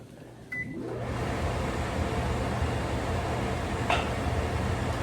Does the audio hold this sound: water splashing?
no